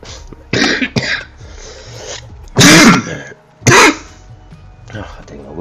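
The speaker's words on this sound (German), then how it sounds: "Hat genau gepasst, das Husten." Several loud, sharp coughs and throat clears burst out close to the mic in uneven clusters, separated by quieter gaps with faint background sound.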